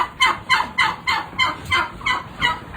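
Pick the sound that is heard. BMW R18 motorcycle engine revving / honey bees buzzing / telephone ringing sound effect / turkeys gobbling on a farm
turkeys gobbling on a farm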